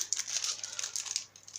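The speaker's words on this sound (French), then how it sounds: "Alors, je vais ouvrir mes pinceaux." Plastic packaging around a set of paintbrushes crinkles and crackles as it is opened, a continuous close rustle with small sharp peaks.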